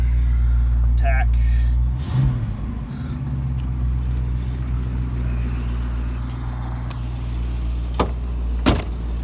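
A 1969 Shelby GT350 Convertible V8 idles after starting, a loud low steady rumble with a clunk partway through and a few sharp clicks, while a person speaks nearby.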